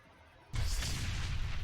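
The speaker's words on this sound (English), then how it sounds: "Now he's going to toss a frag grenade." A frag grenade goes off in the video game Dreadlands, one abrupt, loud, roaring burst that cuts in after a quiet lead-in and keeps rumbling on without tailing off, with no talk over it.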